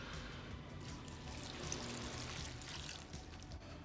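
A cup of vegetable stock pours steadily into a pot of homemade baked beans, a continuous close liquid splashing and gurgling with no talk.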